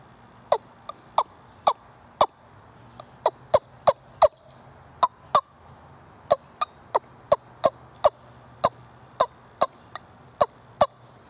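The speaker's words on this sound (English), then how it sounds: "You can make soft calls such as clucks." A handheld wingbone turkey call gives a long series of short, sharp clucks, evenly spaced, each one distinct against a quiet background.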